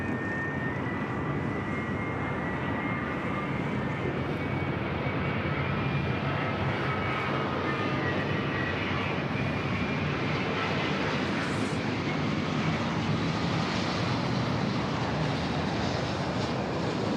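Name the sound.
Boeing 787 Dreamliner jet on final approach at LAX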